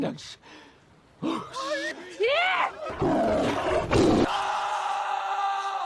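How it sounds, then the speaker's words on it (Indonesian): A tiger roars in a film scene set in a forest on an island, giving loud snarling growls mixed with dramatic sound effects and a narrator's voice speaking over them. "mereka semua telah ditunggu oleh seekor harimau"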